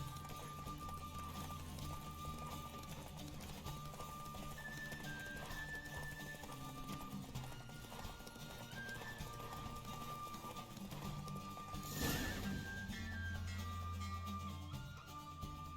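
Steady rhythmic hoofbeats of a galloping horse in a race in The Witcher 3: Wild Hunt, with game music beneath, and a brief whinny-like burst near the end.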